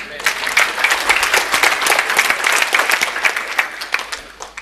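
Applause fills a church sermon hall, a dense, steady patter of many hands clapping loudly and close throughout, with no voices standing out.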